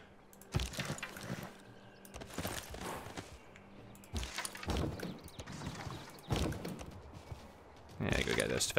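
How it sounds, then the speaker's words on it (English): Horse hooves clip-clop in Civilization VI, a series of short, muffled hoofbeat bursts recurring about every two seconds at moderate volume. A voice talks over them. "Horses."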